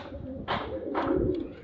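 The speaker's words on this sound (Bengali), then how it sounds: "দেখতে পাচ্ছেন এখানে 4 পিস পায়রা আছে" Pigeons cooing close by, low throaty coos repeating in two or three rolling phrases with a few soft brushing noises around them.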